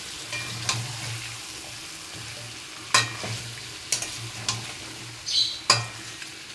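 Fish-head curry made with katla fish head being stirred in a pan, soft sizzling beneath a series of sharp scraping and clinking strokes of a spoon against the pan, with no talking.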